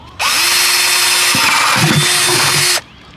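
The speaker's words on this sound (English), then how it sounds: "First thing you need to do before you add your soil is add drainage holes." A power drill bores drainage holes into plant containers, a loud steady whine running for a few seconds with a brief dip partway through as the bit cuts.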